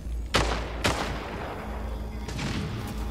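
Sharp gunfire from the video game Splitgate during a ranked match, with two loud close shots early, a quieter burst near the end and constant game noise underneath.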